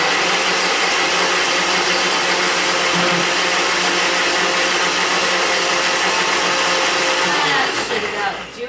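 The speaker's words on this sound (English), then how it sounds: "I'm going to blend all of these up in a blender until they're smooth and creamy." A blender roars loudly and steadily for several seconds, its motor whirring without pause before winding down at the very end.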